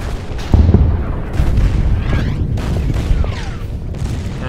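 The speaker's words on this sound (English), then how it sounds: "I think over here we can hit this guy with the artillery" Artillery fire in the strategy video game Order of Battle: a heavy boom lands early, followed by a string of rumbling blasts and crackling impacts that roll on without pause, loud and dense.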